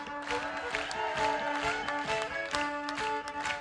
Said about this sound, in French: un grand tonnerre d'applaudissements les partenaires et la mairie de Clermont-Lérault